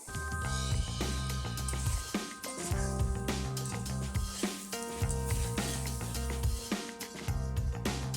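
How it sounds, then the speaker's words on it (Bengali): Beans and potatoes fry with cumin powder in a pan, giving a soft sizzle and stirring squishes beneath a steady layer of background music. "জিরের গুঁড়ো ভালো করে শিম আলুর সাথে মিশিয়ে নিচ্ছি"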